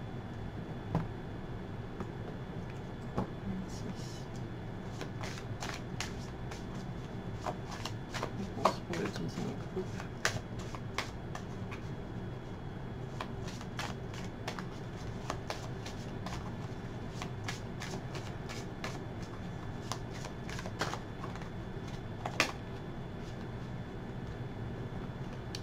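Tarot cards shuffled steadily for a reading, a continuous close riffle of soft card flicks with scattered sharper snaps over a low background hum.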